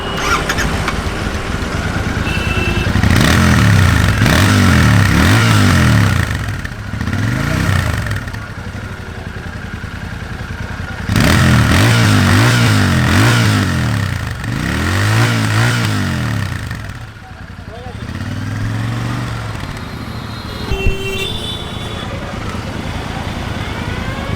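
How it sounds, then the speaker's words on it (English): A Royal Enfield Interceptor 650 parallel-twin engine with a 270-degree crank revs repeatedly in strong surges, its deep uneven exhaust note rising and falling, close and loud, with a brief voice near the end. "this 270-degree crank does give this motorcycle a unique sound"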